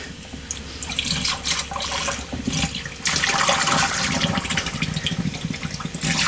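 Baking soda poured into a gallon of water for cleaning Napa Legend battery plates, a steady close splashing and trickling pour that turns louder and denser partway through, with no talk.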